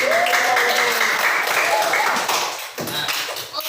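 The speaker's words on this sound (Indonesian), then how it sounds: "tepuk tangan semua buat kelompok yang satu" Classroom of students applauding a student group, a dense burst of clapping that fades toward the end, with voices mixed in.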